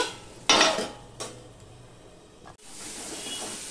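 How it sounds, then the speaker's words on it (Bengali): Spice paste being stir-fried in a pan on a low flame for a fish curry, with a loud burst of metal scraping and stirring, then a softer stroke and a steady low sizzle. "এবার মশলাটা আমি ভালো করে কষিয়ে নেব।"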